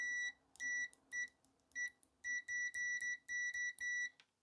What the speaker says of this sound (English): Where's my beep? I gotta put it into beep mode.